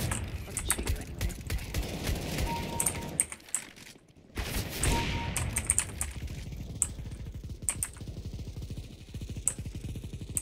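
Gunfire in a multiplayer shooter comes as rapid automatic bursts of sharp, clattering shots, loud and close. It breaks off briefly partway through, then starts again in stuttering volleys.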